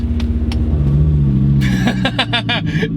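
A big-turbo five-cylinder Volvo 850R wagon engine with an exhaust cutout rumbles at idle, then loud, sharp exhaust pops and revs burst out near the end.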